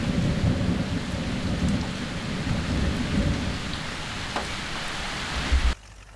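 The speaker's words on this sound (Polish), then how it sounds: "zaczęły padać ulewne deszcze" Heavy rain pours steadily and loudly with low rumbling thunder throughout, a brief crack near the end before the downpour cuts off abruptly.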